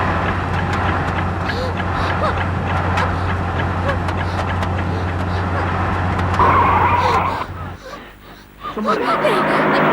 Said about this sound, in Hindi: गाड़ी रोको दिलीप, मुझे उतरना है